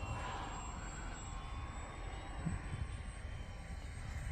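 Radio-controlled model airplane with retracting gear and flaps flying overhead in light wind, a steady, faint engine drone with a thin whine that hangs at a distance throughout.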